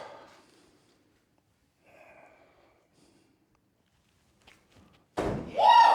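At a team axe-throwing competition, a thrown axe strikes a wooden target with one loud, solid thunk after near silence, and a voice follows right after.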